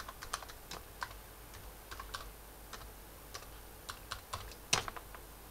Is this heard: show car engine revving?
no